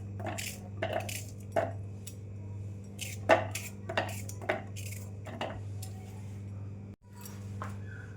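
A knife chops onion on a board for bread pakoda: sharp, irregular knocks, some close together and others spaced apart, over a low steady background hum.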